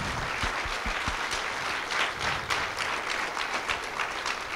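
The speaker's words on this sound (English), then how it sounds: "then give a big round of applause." An audience at a talk on health and happiness breaks into applause, a dense, continuous wash of many hands clapping at a steady, moderately loud level with a few heavier claps near the start.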